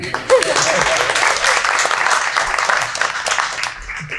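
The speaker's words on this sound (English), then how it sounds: "I think we can clap for it." A board of education meeting audience gives a steady round of applause that lasts several seconds, with dense clapping that fades near the end and a few voices mixed in.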